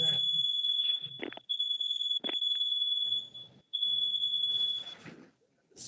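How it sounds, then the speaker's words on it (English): Smoke alarm sounding during a school board meeting, a shrill continuous high-pitched tone broken by short gaps, with people talking underneath it. "Smoke alarm?"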